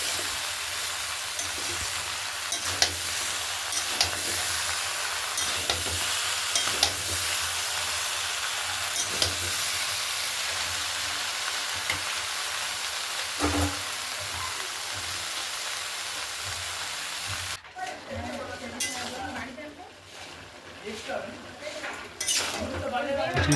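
A pan of mixed vegetables is stir-fried with a catla fish head, with a low sizzle under repeated clinks and scrapes of a metal spoon against the pan, busier clattering near the end.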